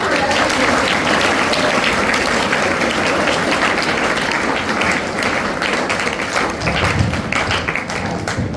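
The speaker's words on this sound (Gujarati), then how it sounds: "તાળીઓના ગડગડાટથી" Sustained, loud applause fills a school entrance ceremony hall, a dense continuous roar of many hands clapping close by, with no pause throughout.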